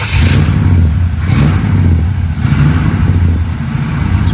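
A cold classic car engine labours loudly and steadily with rough clattering, then swells in a few revs and settles back down to a heavy idle.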